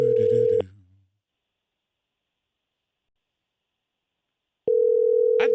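Telephone call tone while dialing out, a steady electronic tone heard at the start, a long silent gap, then the same tone returning, loud and alone.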